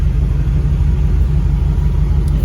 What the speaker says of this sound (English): It just fires right up.